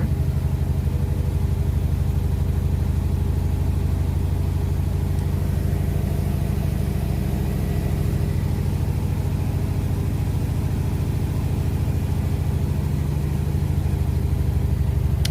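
Steady low mechanical rumble with a constant hum as a Bosch Serie 4 washing machine spins up toward 800 rpm and vibrates, continuous and close throughout with no voices.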